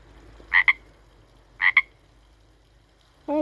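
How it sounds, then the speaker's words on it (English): Pacific tree frog croaking nearby: two distinct double-pulsed croaks about a second apart, crisp and loud against a quiet background, followed by a brief voice at the end. "There's a Pacific tree frog."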